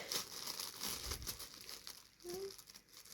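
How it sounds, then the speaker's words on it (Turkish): Wrapping on a gift being torn open by a child at home, heard as dense crinkling and crumpling of paper in uneven bursts throughout, fairly close. "Şimdi Bilgelina hediyesini açacak."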